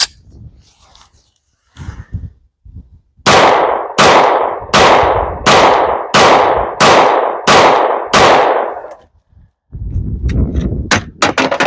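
Gunshots from a 1911 Officer pistol with a grip-adapted magazine ring out as a loud, evenly spaced string of about eight close shots, with a few scattered metallic clicks and handling noises before and after.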